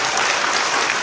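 A congregation at a Juneteenth worship and prayer service gives rousing applause, a short, dense wash of many people clapping together without pause.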